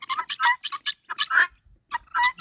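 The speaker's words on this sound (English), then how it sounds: "They hear the ones in the garden chirping, so now this little girl is calling." A young guinea hen gives a run of rapid, loud chirping calls in short bursts with brief pauses, close by and alone.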